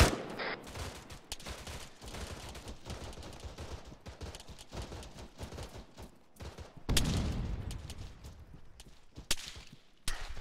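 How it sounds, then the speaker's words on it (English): Small arms gunfire in the military shooter Arma 3, a rapid sequence of sharp cracks and bursts that is sometimes dense and sometimes scattered, with a louder close cluster near the end and no talk over it. "We're taking small arms fire."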